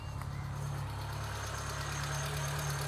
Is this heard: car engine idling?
yes